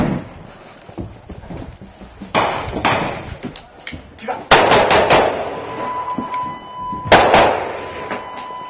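Sharp bursts of gunfire during Ukrainian Army close-quarters urban combat training, several loud cracks in quick clusters between shouted commands, with voices talking throughout.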